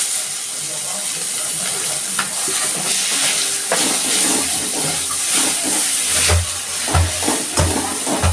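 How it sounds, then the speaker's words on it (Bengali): Chopped onion fries in oil with a bay leaf and cumin seeds for a spicy river tengra fish curry, a continuous close sizzle with stirring knocks and scrapes, and a voice speaking at times. "এবার আমি পেঁয়াজ কুচিটা দিয়ে দিচ্ছি"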